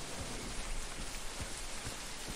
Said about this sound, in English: Okay, now it's raining.